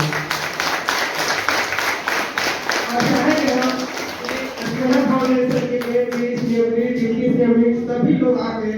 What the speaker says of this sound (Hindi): इन बच्चों का मनोबल बढ़ाने के लिए कृपया एक बार आप लोग ताली बजा दीजिए।